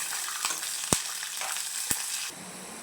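Peanuts fry in hot oil in a pan for an Indian peanut chutney, giving a steady, close crackling sizzle broken by a few sharp pops, with no voices.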